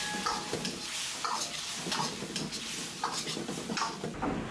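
Quiet sizzling in a wok as bullfrog with pickled chili, loofah and scallions is stir-fried, with soft repeated scraping strokes of a spatula over a steady hiss.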